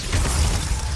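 Glacius freezing spell in Hogwarts Legacy, a short icy shattering crackle with a low thump underneath, loud and close, lasting about a second.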